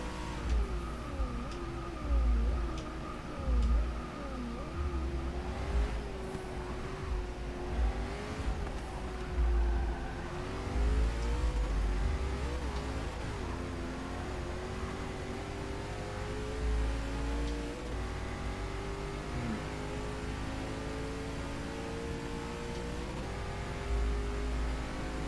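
A race car engine in the Forza 6 racing game revs, accelerates and shifts continuously, with a loud droning whine rising and falling throughout.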